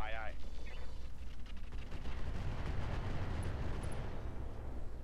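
Mech weapons and missiles fire together in the video game Roguetech, a dense, continuous rumbling barrage of heavy blasts and booms that fills the whole stretch without pause.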